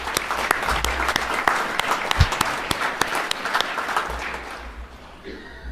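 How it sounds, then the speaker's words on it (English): Applause at a Northwest Iowa Community College fall 2024 commencement ceremony for the anthem singer and organist, a dense, steady crowd clapping that fills the room and tapers off toward the end. "Let's give them a round of applause."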